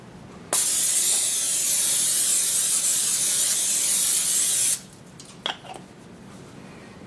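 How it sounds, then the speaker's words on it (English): Cooking spray hisses in one continuous burst of about four seconds onto a baking pan, close and loud, followed by a couple of faint clinks. "Spray the pan here that I'm going to make it in."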